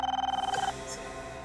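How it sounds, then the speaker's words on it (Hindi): A telephone rings in a quick repeating electronic trill for under a second, loud and close, then cuts off into a background hum. "ये उन्हीं का फोन होगा पापा, उन्हीं लोगों का फोन होगा ये।"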